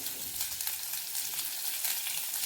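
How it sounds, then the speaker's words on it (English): Food frying in a pan during home cooking, a close, continuous bright sizzle with faint crackles, no voices. "now we're gonna put the three into the pan because we're gonna fry it"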